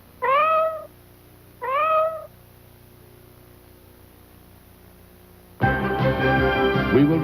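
Cats meow in a Meow Mix cat food commercial: two clear, rising meows close up, then a pause and a louder burst of overlapping, sung-sounding meows.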